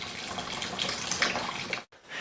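A stream of water pours steadily like a running tap for a couple of seconds, breaks off briefly, then resumes, close and fairly loud with no talk.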